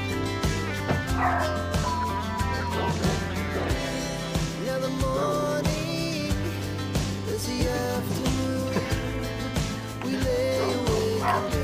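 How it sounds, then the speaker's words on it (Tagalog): A large dog in Paramaribo, Suriname, barks, yips and whimpers repeatedly over a dense, steady wash of background noise. "May aso eh. Laki ng aso oh."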